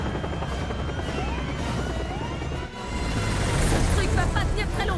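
A helicopter in the video game Resident Evil 6 drones loudly and continuously with a throbbing rotor hum, briefly dipping before swelling louder, while people talk over it.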